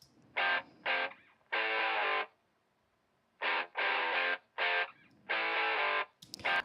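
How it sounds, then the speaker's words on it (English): Mid-range electric guitar intro taken from a live recording and soloed, playing short bright stabs and chords in clipped bursts separated by near-silent gaps, with no talking over it. "you can hear this mid-rangey guitar intro that happens in the beginning"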